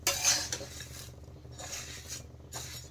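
Puffed rice tossed with chanachur in a bowl, a spoon scraping and clinking against the dish in a few bursts of crisp rattling, close and moderately loud, with quieter rustling between strokes.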